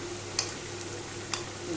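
Food deep-frying in plenty of hot oil gives a low, steady bubbling sizzle, with two faint clicks over the top.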